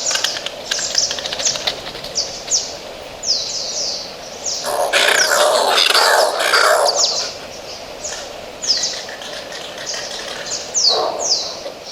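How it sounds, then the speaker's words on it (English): Oilbirds, nocturnal cave-dwelling birds, give repeated harsh, screeching cries in an irregular series, some overlapping and echoing, with a louder burst of raspy screams in the middle and no talking. "this refers to the anguished cries of the bird, which make it sound sad or lonely."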